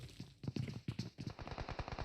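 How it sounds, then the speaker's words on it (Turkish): Bursts of rapid automatic gunfire crack and rattle in a PUBG battle royale match on the Erangel map, with several volleys following one another, fairly distant and faint, and no voices heard. "Yani her yerde şu anda silah sesleri yükseliyor."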